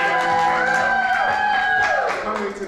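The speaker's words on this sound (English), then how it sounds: "Clap it up for Gabriel." Live audience at a spoken-word livestream event clapping and cheering for performer Gabriel Ramirez, a steady wash of applause with whoops, sustained and fairly loud before tapering slightly at the end.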